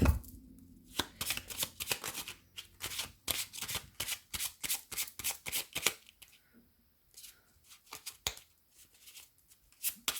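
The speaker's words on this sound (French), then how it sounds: "avec le Lenormand aussi, je vais vous faire une coupe" Lenormand cards are shuffled in a rapid run of crisp riffling flicks, then pause and resume with sparser snaps as the deck is cut, quiet and close.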